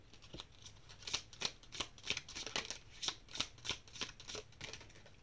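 Oracle cards being shuffled by hand, a quick run of about a dozen crisp riffling flutters in a steady rhythm, close and fairly quiet with no talking.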